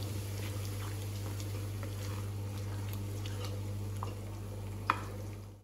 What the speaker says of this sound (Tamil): மசாலா நல்லா கொதிக்க ஆரம்பிச்சிச்சு